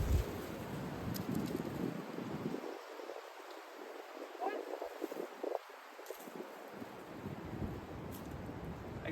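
Wind blowing across a disc golf course in winter, heard as rough, gusting microphone rumble and rustle that drops away briefly mid-clip before picking up again.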